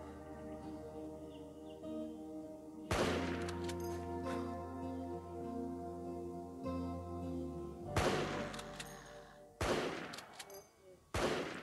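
Gunfire in the survival video game LifeAfter while hunting a wild boar, a few sharp loud shots spaced seconds apart over a low droning game soundtrack.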